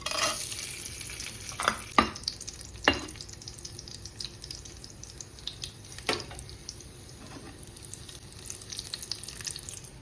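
Almonds and raisins fry in hot ghee for pumpkin halwa, a soft, steady sizzle broken by a few sharp clinks of stirring against the pan, quiet and close with no speech.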